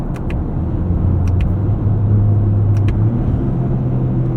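A 2025 Toyota GR Corolla with an 8-speed automatic accelerating, giving a loud, steady engine rumble from inside the cabin with a few brief higher-pitched boost whooshes and chirps from the front end.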